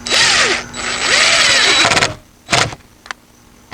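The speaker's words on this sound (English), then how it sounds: "so I put the lag bolt in right at that level" A power drill drives a lag bolt into a wooden fence post, two long whining runs with rising and falling motor pitch, then short bursts and clicks as it finishes, loud and close.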